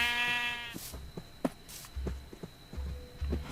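A sheep in the Minecraft Bedrock 1.17 video game gives one clear, wavering bleat at the start, followed by scattered soft thumps, clicks and footstep-like knocks from the game.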